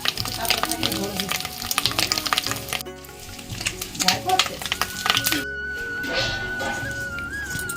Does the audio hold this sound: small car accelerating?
no